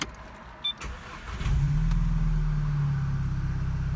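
A Volkswagen Mk6 GTI engine with an upgraded diverter valve cranks briefly, then catches and settles into a steady, low idle rumble that stays close and continuous.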